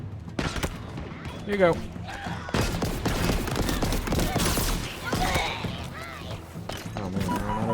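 Rapid bursts of gunfire and thudding impacts from the video game Halo Infinite ring out almost continuously at close range, with someone talking over the shooting.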